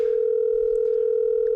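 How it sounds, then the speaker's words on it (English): A steady, loud telephone dial tone holds unbroken as a phone is picked up to place a call, alone with no voices. "Before I go any further, John, I have to make a quick phone call here."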